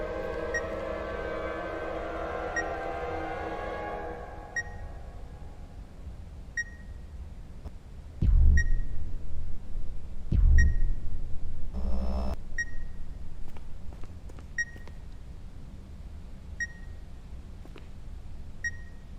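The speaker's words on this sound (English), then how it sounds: "that beeping." Electronic beeping in the horror video game The Beast Inside, a short high beep repeating at steady intervals over a dark ambient bed, with a couple of heavier thuds and a rumble partway through.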